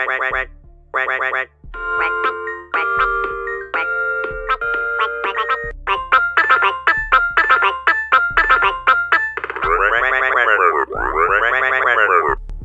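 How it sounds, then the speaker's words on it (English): Unused alarm sound from the video game Scrap Mechanic: a loud, bright electronic tone sequence of chiming beeps and jingles that speeds into rapid blips, then ends in two long rising-and-falling siren sweeps. "alarms"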